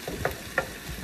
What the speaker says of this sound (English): Just breaking the tomatoes up a bit.